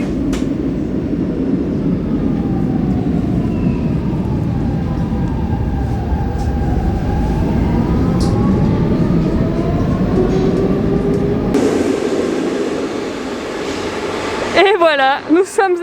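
A subway train in Portugal rumbles and screeches along the tracks, loud and steady, then brakes squeal sharply as it slows near the end.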